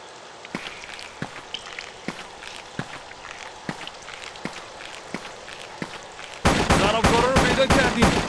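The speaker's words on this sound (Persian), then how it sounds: "دارم به اون شلیک میکنم" Sparse single gunshots spaced about a second apart, then a sudden burst of rapid, loud gunfire near the end.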